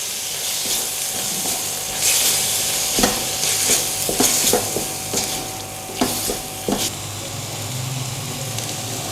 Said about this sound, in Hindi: और अब इसको मिक्स करेंगे।